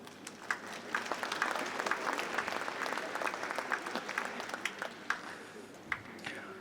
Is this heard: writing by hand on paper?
no